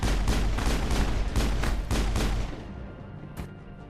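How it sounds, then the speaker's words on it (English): Biotic rockets exploding in the video game Mass Effect: a loud, rapid string of booming blasts that stops after a couple of seconds, followed by one more isolated hit. "Biotic rockets."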